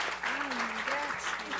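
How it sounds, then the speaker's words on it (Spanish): Brief applause from an audience at an academic event honoring the speakers, a dense burst of clapping in a hall with voices faintly audible underneath. "Un aplauso para todas nuestras expositoras"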